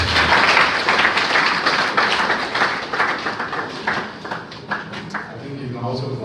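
An audience at a presentation event breaks into applause that swells then thins to scattered claps, with voices talking over and between the clapping.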